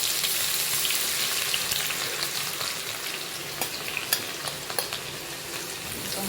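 Mustard seeds and garlic sizzle in hot oil for kankoda sabzi, a steady close frying hiss with scattered small pops and crackles, no voices.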